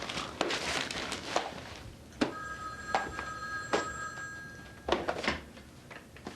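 Telephone in a home rings in a few short, bright bursts, moderately close, with footsteps and thumps moving around it and no talking.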